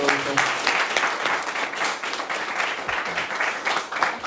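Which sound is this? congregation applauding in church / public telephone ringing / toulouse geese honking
congregation applauding in church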